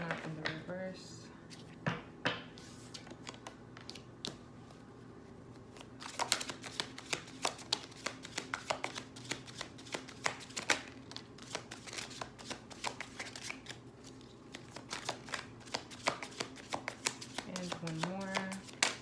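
A tarot card deck shuffled by hand, giving repeated quick riffling and tapping bursts with short pauses, while someone talks quietly over it.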